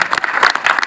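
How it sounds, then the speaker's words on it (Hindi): An audience at an award ceremony honouring people with disabilities claps in a brief, dense burst of close, lively applause. "आप लोग जोरदार ताली से इनका स्वागत करें"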